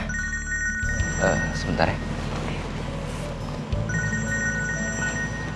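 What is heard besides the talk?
telephone ringing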